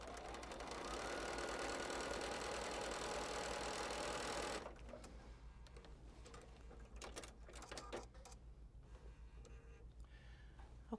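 A sewing machine stitches quilt pieces in a steady, fast, loud mechanical whir for several seconds, then stops, followed by quieter handling clicks and rustles close by.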